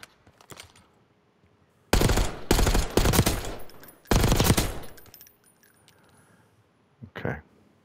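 Bursts of automatic gunfire with heavy recoil in the video game Call of Duty Black Ops 6, two long loud rattling volleys followed later by a brief short burst, separated by quiet gaps.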